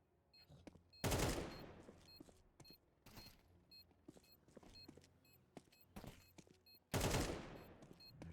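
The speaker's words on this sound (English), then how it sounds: "Shots continue on." Sparse gunshots in a Counter-Strike match, faint single cracks and short bursts scattered over a quiet background, with two louder sharp blasts standing out, no commentary over them.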